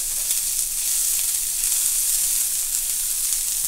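Vegetables sizzle and fry steadily in hot vegetable oil on a stovetop burner while being stirred, a continuous bright crackling hiss, close and fairly loud throughout.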